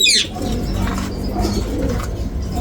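Pigeons in a loft coo in low, rolling throaty notes close by, with a brief bright chirp at the start and faint rustling around the birds.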